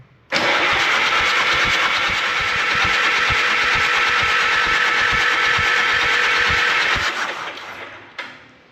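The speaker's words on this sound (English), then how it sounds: "let's crank this over, build a little oil pressure" An antique tractor engine with its valve cover off spins steadily on the starter for about seven seconds, a loud, even cranking churn with rapid rhythmic pulses that stops abruptly, followed by a brief clunk.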